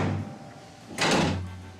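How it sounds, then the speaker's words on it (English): A car hood latch handle on a Ferrari 250 GT replica is pulled, giving a sharp metallic clack with a brief rattle after a stretch of quiet garage hum. "Give that handle a couple pulls there."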